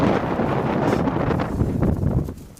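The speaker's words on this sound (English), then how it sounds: "And these gusts get so strong that they move you around." Strong wind buffets loudly against the microphone in rushing gusts, easing off slightly at the end.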